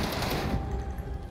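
Rapid automatic gunfire in Call of Duty on Rebirth Island, a dense loud burst of shots that thins out after the first half second.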